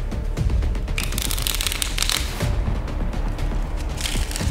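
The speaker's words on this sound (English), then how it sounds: "I'm gonna break it to a couple of sections and I am gonna shuffle" A deck of playing cards is shuffled in repeated quick riffling bursts at a talent show, close and crisp, with no talking.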